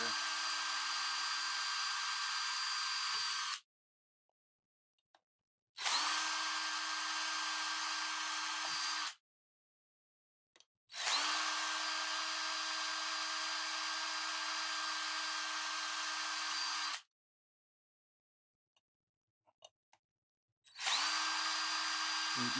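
A power drill whines in four long bursts separated by short pauses of quiet, each run high-pitched and steady, close by, drilling a hole in a handheld enclosure.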